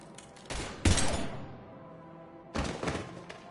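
Gunfire in the Mass Effect 3 video game: a loud burst of shots, a short pause, then a second heavy volley after a longer gap, each followed by a lingering rumble.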